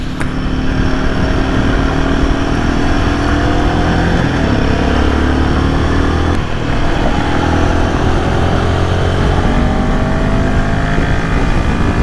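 A 2025 Royal Enfield Himalayan 450 motorcycle engine pulls hard and continuously, its loud, close drone rising steadily in pitch as the bike accelerates.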